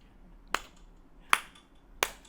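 Three sharp, separate claps ring out at a steady, unhurried pace, close and crisp against a quiet background.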